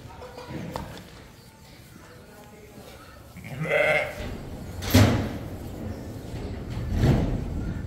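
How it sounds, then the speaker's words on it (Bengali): Sheep on an American farm bleat several times, loud and close, with a long wavering call midway and another later, over outdoor farm background noise. "এদের এই ভেড়াটির অবস্থা দেখেন কি অবস্থা।"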